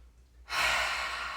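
A deep breath drawn in through the nose, then a long, steady exhale out through the mouth, close and soft, with no talking.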